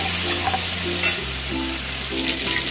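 Shrimp frying in oil in a wok over a high flame, a loud, close, continuous sizzle with a sharp burst about a second in as the pieces are tossed.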